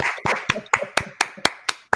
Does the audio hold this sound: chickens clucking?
no